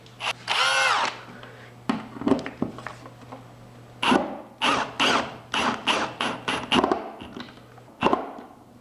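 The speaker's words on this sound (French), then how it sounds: "après je vais le visser" Power drill driving screws to mount an intercom unit, whirring bursts, one long rising spin, then a rapid series of short trigger pulses, loud and close.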